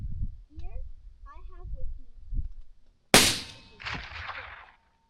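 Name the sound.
lever-action rifle gunshot with 190 grain Barnes bullets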